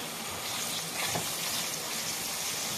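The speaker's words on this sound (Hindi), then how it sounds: "टमाटर गलते ही हम इसको भूनना शुरू कर देंगे" Tomato chutney frying in oil in a pan gives a continuous, fairly loud sizzle with a soft stirring scrape near the middle, heard alone.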